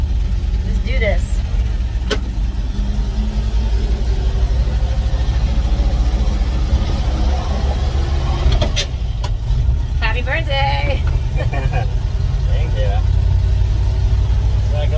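A vintage Ford's engine drones loudly and steadily from inside the cabin while driving, a continuous low rumble with people talking over it.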